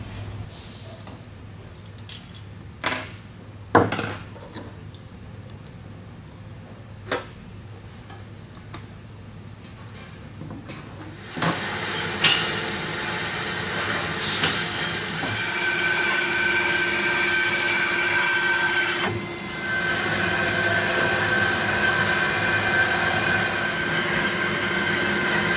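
A heat press heating element being cut apart with a tool, a few sharp clicks and knocks at first, then a steady grinding, cutting noise that runs on to the end, close and fairly loud.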